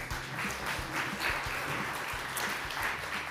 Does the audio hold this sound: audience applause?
yes